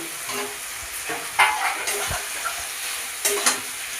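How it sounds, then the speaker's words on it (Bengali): Potato pieces fry in a pot of mutton curry while a spoon stirs them, giving a soft continuous sizzle broken by scraping strokes and a few sharper clinks. "আলু দিয়ে একটু কষাবো"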